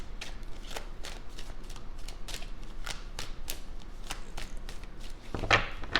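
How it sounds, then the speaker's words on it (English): Rapid riffling clicks of a deck of cards being shuffled, repeated in quick bursts, close and crisp, ending with a louder final shuffle. "We're going to do 3 more shuffles."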